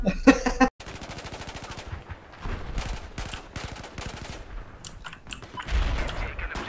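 Rapid automatic gunfire from a shooter video game, bursts of machine-gun rattle repeating across the clip, fairly loud and close, with short gaps between volleys.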